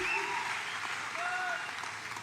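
Crowd at a professional pickleball match between Ben Johns and Tyson McGuffin, with steady applause and cheering that fades slightly, heard from a distance under a faint whistle-like tone.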